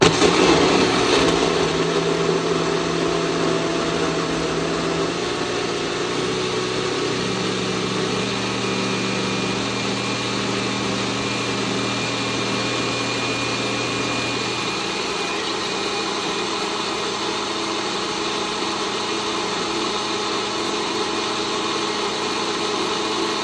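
A TopZee EasyGo blender runs steadily for over twenty seconds, a loud continuous motor whir with a slight pitch drop partway through as the contents liquefy, with no talking.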